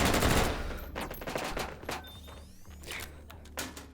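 A Meatmas gun fires in a video game in quick, rattling bursts of automatic fire, fairly close and moderately loud, with short pauses between volleys and no talking.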